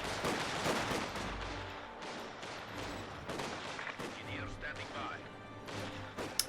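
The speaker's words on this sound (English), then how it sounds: "which makes for some very nice killing sounds with machine gun" Rapid machine gun fire in the strategy game Company of Heroes 2 rattles in dense, repeated bursts mixed with battlefield crashes and distant blasts, steady and fairly loud throughout, with faint voices briefly underneath.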